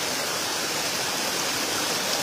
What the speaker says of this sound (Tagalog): may bukal, so may mga tubig po na lumalabas pa